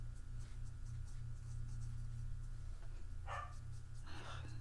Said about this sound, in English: Darn dog is just barking away today.